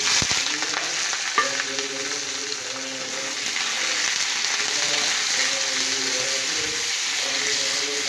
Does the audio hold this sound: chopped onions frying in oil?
yes